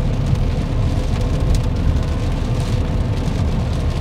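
Steady rain drums on a moving car while driving, a dense continuous patter on the roof and glass with road noise beneath, loud and close with no talking.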